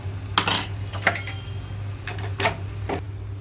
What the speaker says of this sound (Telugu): ఇప్పుడు ఇందులోకి పప్పు ఇది పప్పులోకి కలిపేస్తున్నాను తాలింపు అంతటిని